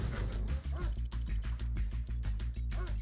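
Dog unit barking in the Command & Conquer Red Alert Remastered real-time strategy game, a steady run of repeated barks close and loud over a continuous game soundtrack throughout.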